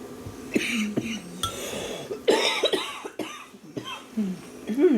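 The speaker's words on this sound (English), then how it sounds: "It's making me want to cough." A few short, harsh coughs and throat-clearing bursts, close by, with brief pauses between them and some quiet breathing.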